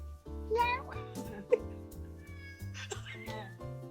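A house cat meowing in a home kitchen, several short close meows in quick succession over a sustained tonal background, with a person's voice nearby.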